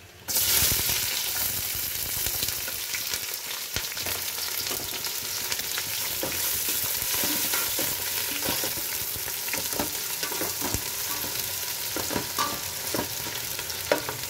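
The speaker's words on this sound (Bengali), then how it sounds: "পেঁয়াজটা একটু ভাজা হবে" Chopped onions fry in hot oil for chicken pulao, a continuous close sizzle with crackles and the scrape of stirring throughout, no talking.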